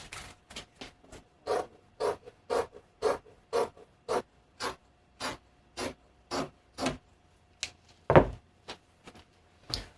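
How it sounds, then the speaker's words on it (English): Scissors cutting along a marked edge of layered robe fabric clipped together, making a steady run of crisp snips in an even rhythm, close and alone with no talk. "I'm just going to cut all along this edge and have my two panels."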